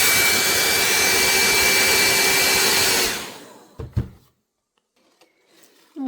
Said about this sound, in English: I'm gonna dry it now with my hair dryer